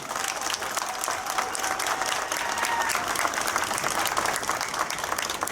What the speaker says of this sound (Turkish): Onlara kocaman bir alkış istiyorum.